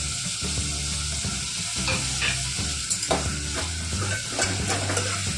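Chopped capsicum goes into a frying cauliflower curry, with steady close sizzling and repeated stirring clatters in the pan throughout.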